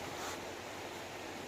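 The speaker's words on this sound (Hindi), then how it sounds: "और गैलरी में आप कलकलाहट की आवाज़ सुनाई दे रही है आपको।" A small decorative waterfall feature in the gallery of a house in Rishikesh, its water gurgling and splashing in a soft, steady, continuous rush heard alone at low level.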